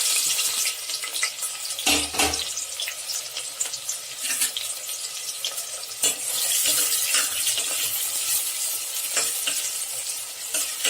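Onion and green chilli crackle and fry in oil with cumin for vegetable biryani, a close, steady sizzle broken by occasional stirring knocks and scrapes.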